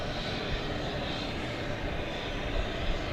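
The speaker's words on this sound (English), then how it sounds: "We have a 777 American Airlines." An American Airlines Boeing 777-200ER jet bound for Buenos Aires roars steadily at DFW airport at night, a broad continuous engine rumble heard from a distance.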